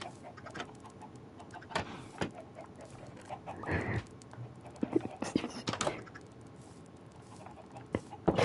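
Faint clucking of chickens in Minecraft comes through in scattered bursts, with soft background noise and some quiet voices now and then.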